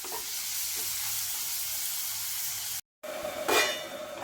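Onion and tomato with a little salt sizzle steadily in a pan while being stirred for paneer bhurji. The frying hiss runs close and continuous, cuts out for a moment, then returns with a brief louder burst of stirring.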